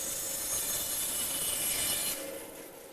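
A bandsaw roughs a wooden wheel out of a square wooden blank for a garden deck chair, a steady close whirring hiss of blade through wood that drops off toward the end as the cut finishes.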